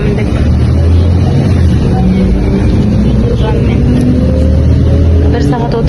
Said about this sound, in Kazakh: Автобусқа міндік.